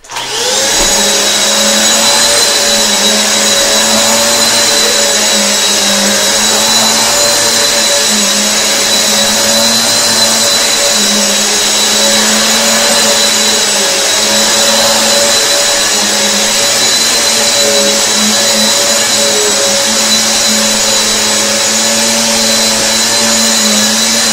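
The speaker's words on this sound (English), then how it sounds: "Alright, they're both on medium. Let's see what we get up from this vacuum." Hoover and Eureka vacuum cleaners running together on medium, a loud steady motor whine with a constant airy roar and high tonal hum, unbroken throughout with no talk.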